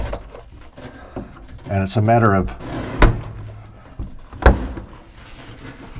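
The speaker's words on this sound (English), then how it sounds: "We just close the door" The door of an Alu-Cab canopy camper on an extra-cab truck is shut, giving a couple of solid thuds and clunks close by, while someone talks over and between the knocks.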